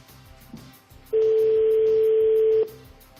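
A French telephone call ringing out unanswered: a single steady electronic tone lasts about a second and a half, loud and close, after a short stretch of low background noise.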